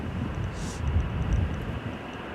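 An EasyJet airliner at Manchester Airport, a broad low jet roar with wind buffeting the microphone over a short stretch.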